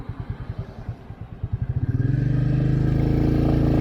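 A Royal Enfield Meteor 350 carrying a passenger pulls away in first gear, the single-cylinder engine thumping at idle in a steady pulse before the revs rise into a smooth, even drone.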